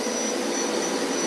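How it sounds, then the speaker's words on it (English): A household vacuum cleaner running steadily during a deer-butchering session at home, a constant loud broadband whir with a high whine that holds unchanged throughout, no voices over it. "you guys might hear a vacuum turn on."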